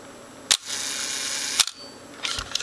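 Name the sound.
Vivitar V3800N camera shutter firing at 1 second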